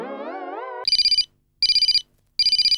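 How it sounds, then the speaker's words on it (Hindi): A telephone rings indoors: an electronic ringtone glides in tone, then three loud pulsing bursts of chirping rings follow with short gaps between them, close and clear. "ले बोलो, उसी का फोन है।"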